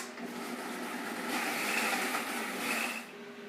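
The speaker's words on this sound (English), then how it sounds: "Now I'm going to blend up the Irish moss." Irish moss being blended with about half a cup of water, a steady broadband motor whir that holds for several seconds, swelling slightly in the middle before easing off near the end, with no talking.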